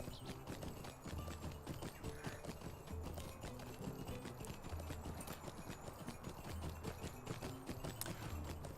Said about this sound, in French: le poney de Mali, c'est pas un cheval de guerre, hein. Il n'a pas encore le niveau pour avoir son cheval de guerre, enfin son poney de guerre, donc ça va beaucoup moins vite